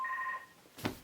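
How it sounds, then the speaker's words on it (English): A telephone rings once with a short, faint, steady two-tone electronic tone, followed by a soft bump nearby. "Sorry, that's the phone."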